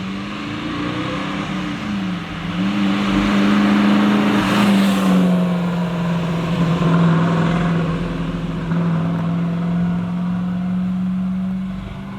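A 1969 Camaro Z28 with its DZ 302 V8 running nearby, a loud rumbling exhaust that swells as it revs, then settles into a steady throaty idle with no talking.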